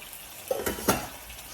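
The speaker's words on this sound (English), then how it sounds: "Just to let these green beans cook just a bit." Green beans cooking in a pot give a brief sizzle with two quick scraping stirs, close and fairly quiet, with no voices.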